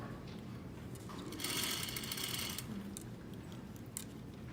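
A sewing machine stitches a sleeve placket in one short, faint burst of about a second amid quiet room noise, with a couple of small clicks after it.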